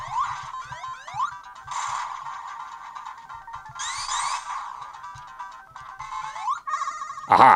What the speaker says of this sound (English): Missing out the sound effect of the ring.